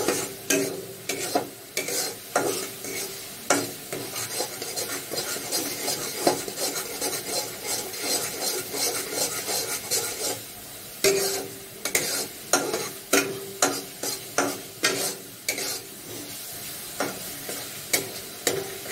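Spices with whole cumin fry in a pan while a spatula scrapes and stirs, a soft sizzle under repeated rasping strokes, steady and close, with no voices.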